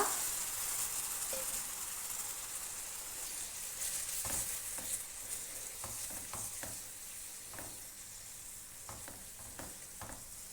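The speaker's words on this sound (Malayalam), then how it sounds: "ഇതിലേക്ക് ഒരു 1/4 കപ്പ് ചൂടുവെള്ളം ചേർത്ത് കൊടുക്കുക" A tomato masala for a Kerala egg roast sizzles in a pan after hot water is added, making a continuous bright hiss with occasional sharp pops and crackles. Close but fairly quiet, with no talking.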